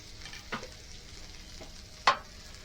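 Tomato and pork tenderloin hit a hot pan over a quiet background sizzle, giving two brief sharp sizzling bursts, the second louder and closer.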